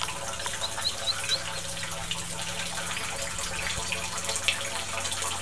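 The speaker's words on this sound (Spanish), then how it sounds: "ya se escucha el agua como cae" Rainwater that has leaked in falls inside a vent pipe of a flooded house, giving a steady faint trickling and splashing wash with a low hum beneath, continuous and fairly distant.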